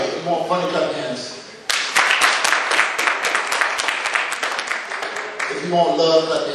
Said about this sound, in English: you want funny, clap your hands